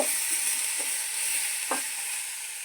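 Beetroot chutney fries in a pan with a steady, fairly loud sizzling hiss and a few soft stirring scrapes, no speech.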